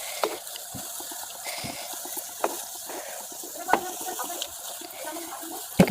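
Palm fritters (tal bora pitha) bubble in hot oil as they are turned one by one, a soft continuous frying fizz broken by a few light taps and clinks from the flipping utensil.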